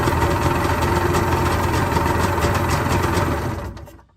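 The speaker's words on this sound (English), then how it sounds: "we got the motor running good" A jet ski motor runs steadily at a rough, buzzing idle, close and alone, then cuts out and fades away in the last half second.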